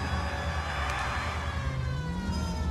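A wailing police car siren from the 1940s-era game LA Noire rises and falls loudly over a continuous engine rumble, filling the short stretch without any talk.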